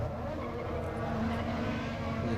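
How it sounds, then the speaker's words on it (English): A Formula BMW single-seater race car roars past on the Bahrain circuit, a steady loud engine drone with tire noise, close and continuous for a couple of seconds. "The car's just coming through"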